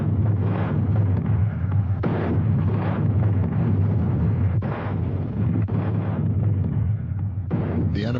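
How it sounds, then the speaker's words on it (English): Naval guns bombarding the Normandy coast on D-Day, heard as a loud, continuous barrage of heavy blasts and rumbling booms overlapping one another with no pause. "the naval guns open up."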